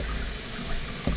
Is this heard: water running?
yes